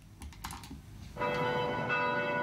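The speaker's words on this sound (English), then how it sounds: "the bells rang out for the 9 victims of the Emmanuel AME massacre" Church bells ring out in Charleston, South Carolina for nine massacre victims, a sustained resonant peal rising after a few sharp tapping clicks, steady and moderately loud.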